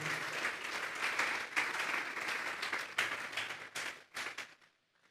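A church congregation claps together in a sustained burst of applause, dense and fairly loud, pulsing slightly before thinning out and stopping near the end.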